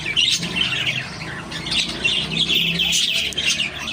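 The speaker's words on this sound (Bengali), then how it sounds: "আজকে আবার আরেকটা পাখি মারামারি করছে" Harsh, continuous squawking from several fighting birds at close range, loud and agitated with overlapping calls and no pauses.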